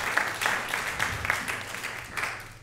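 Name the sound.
congregation applauding volunteers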